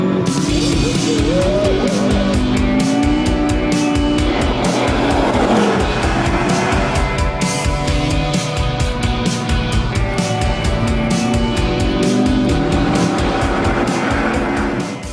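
A McLaren sports car revs hard and skids on a slippery airfield runway, its engine roaring loud and close with repeated tire squeals and skidding throughout.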